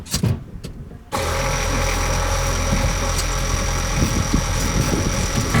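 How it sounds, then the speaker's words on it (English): An RV water pump runs steadily and loudly as it pressurizes the system, a continuous mechanical hum that kicks in abruptly after a second of quieter handling noise. "So that's pumping up. It is a little noisy, but they are that way."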